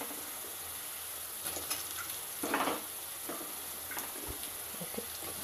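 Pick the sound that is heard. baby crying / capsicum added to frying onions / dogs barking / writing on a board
capsicum added to frying onions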